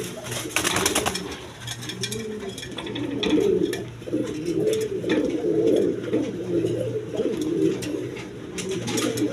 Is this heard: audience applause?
no